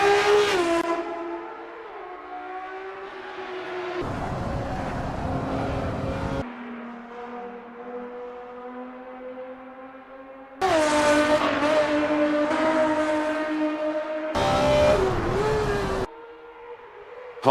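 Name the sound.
race car at full throttle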